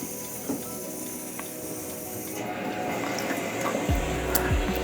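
Water is poured for bleaching a darkroom print, making a continuous close hiss and splash that swells slightly toward the end, where a couple of low thumps sound.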